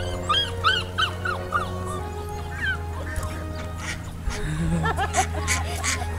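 Several short, high yips from Border Collie puppies playing in mud come in quick bursts, then scattered quacking and honking waterfowl calls in the background, with rustling movement.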